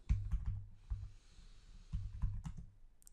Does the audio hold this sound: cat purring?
no